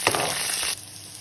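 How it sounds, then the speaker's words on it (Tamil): Onion and curry leaves sautéing in a pan for a shark puttu dish, a loud bright sizzle that cuts off suddenly partway through to a quieter hiss. "இதோட வெங்காயம் செட்டு கருவேப்பிலை போட்டு வதக்கும்."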